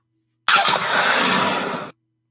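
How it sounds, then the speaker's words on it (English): Laser blast sound effect: a single harsh, noisy burst starting abruptly and sustaining for about a second and a half before cutting off, loud and alone. "I don't know why it's laser blast"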